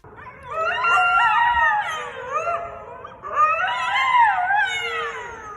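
Coyote at Kirby Cove, a beach area in San Francisco, giving two long, wavering howls with yips layered in, loud and close with a short pause between them and no talking.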